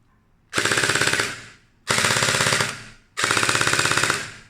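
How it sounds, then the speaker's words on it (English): JingJi SLR CQB gel blaster airsoft rifle firing on full auto in three bursts of roughly a second each, separated by short pauses. Each burst is a loud, close, rapid mechanical rattle. "I forgot to show you the full auto. Right, full auto."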